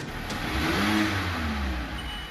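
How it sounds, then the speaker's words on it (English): A car engine turns over and roars, revving loudly and steadily before pulling away at speed, with the sound staying close and continuous throughout. "The car engine failed on the first try, but then roared to life"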